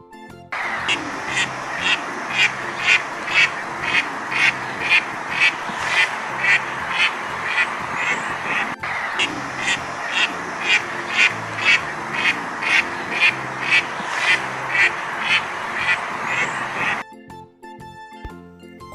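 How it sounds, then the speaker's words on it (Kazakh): A domestic duck quacking repeatedly in a steady rhythm, loud and close, a long run of evenly spaced nasal quacks with no talk. "Үйрек."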